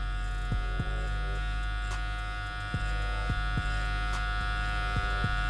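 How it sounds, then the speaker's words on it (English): Electric hair clippers tapering dreadlocked hair in a self-cut, a steady close electric buzz with a constant hum running throughout and small shifts in tone as the blade moves, with no talking. "instead of having your clippers like this, facing down, you're gonna use your clippers up"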